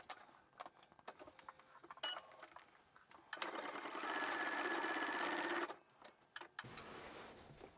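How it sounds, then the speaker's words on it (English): A sewing machine stitches dress skirt pieces at home, a steady whirring run of several seconds in the middle, loud and close, framed by quieter clicks and handling noises before and after. "Let's head to the machine and stitch everything down"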